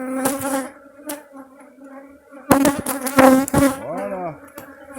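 Honeybees buzz loudly and close while being moved into a nucleus hive, a dense, wavering drone with sudden louder swells and a brief rising-and-falling whine near the end.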